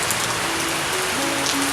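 Steady rain falls in a dense, even hiss of drops hitting a surface, close and constant, with nobody talking.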